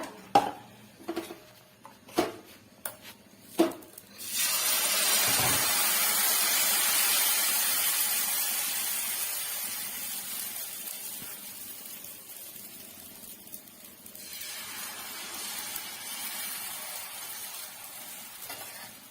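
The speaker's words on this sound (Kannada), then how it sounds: "ನೋಡಿ ದೋಸೆ ತವ ಕಾಯೋದಕ್ಕೆ ಇಟ್ಟಿದ್ದೀನಿ ಇದಕ್ಕೆ ಒಂದು ಚೂರು ಈ ರೀತಿ ಎಣ್ಣೆ ಸಾಕೋತೀನಿ" Oil being spread across a hot dosa tawa, a soft steady sizzle and scraping hiss that swells after a few light taps and clinks, then gradually fades and settles lower.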